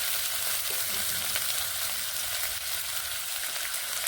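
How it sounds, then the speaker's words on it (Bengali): Potatoes sizzle loudly and constantly in hot oil in a pan while being stirred, a dense, even frying hiss with faint scraping underneath and no voices. "আলুগুলোকে এইভাবে কয়েক সেকেন্ড নেড়ে নিচ্ছি"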